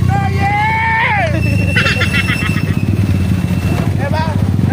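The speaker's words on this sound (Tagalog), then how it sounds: "Mag-drive ako dito ng motor." A big bike motorcycle engine running steadily beneath loud, excited talk and shouting, with a constant low rumble under the voices throughout.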